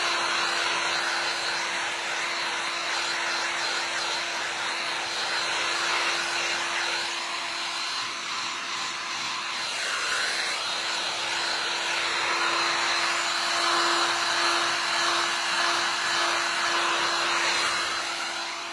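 A hair dryer blows steadily and loudly to dry paint on a vintage travel makeup case, a constant close whir with a slight rise in pitch and strength toward the end.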